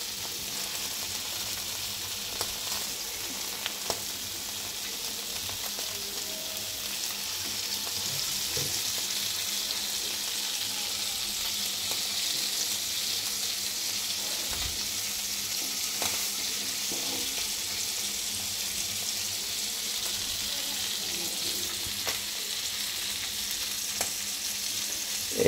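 Sarputi fish fries in oil with a long, even, crackling sizzle that stays steady and close throughout, with only faint clicks and no voices.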